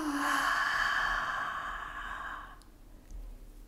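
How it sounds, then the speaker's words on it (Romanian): A long, drawn-out yawn from a character settling into bed under a blanket, a breathy exhalation that swells loudly at the start, then trails off and fades into quiet near the end. "A căscat prelung."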